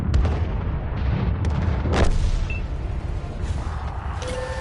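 Artillery fire in the World of Tanks game: a dense, continuous rumble of distant booms and bursts, with one sharper blast standing out near the middle, steady and loud throughout without talk.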